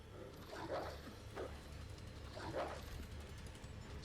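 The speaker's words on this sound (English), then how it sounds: "Just gonna dodge this dog." A dog in the Resident Evil 2 Remake game gives several short barks and yips over steady low game ambience.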